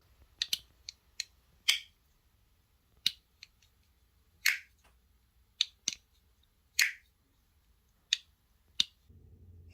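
Sharp, crisp clicks and snaps from the lock mechanism of a titanium folding knife before carbidizing, about a dozen separate actions at irregular intervals, close and clear against near silence.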